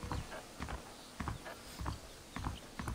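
Horse hooves clip-clopping in the video game Red Dead Redemption: a steady rhythmic series of close hoofbeats at a walking pace over a continuous ambient bed.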